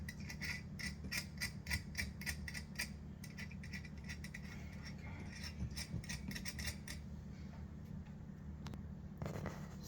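Unscrewing the middle part of a ceiling light fixture while hanging it, heard as a steady run of small metallic clicks and scrapes at close range over a constant low hum, with no talking.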